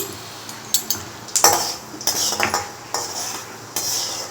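Onion being stirred into chana dal frying in a pan: close, clinking strokes of a metal spoon against the pan in an irregular rhythm over a faint sizzle, with no voices.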